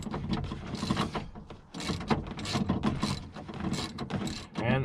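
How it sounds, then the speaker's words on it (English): A 3/8-inch ratchet turns on door bolts inside a Ford F-150 truck door during window regulator work, giving steady close mechanical clicking and rattling in dense bursts with no talk. "regular 3/8 ratchet will do the job just fine"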